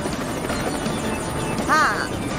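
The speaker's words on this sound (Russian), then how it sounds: "Вертолетом ты с легкостью перелетишь через канал." A cartoon helicopter flying over a canal, its rotor whirring steadily at close range, with a rising whistle-like tone near the end.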